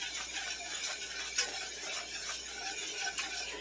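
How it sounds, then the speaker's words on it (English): A whisk stirring creamy garlic chicken sauce in a pan, soft continuous scraping and swishing with faint sizzling, quiet and close. "I'm going to go ahead and just whisk this for about 1 minute"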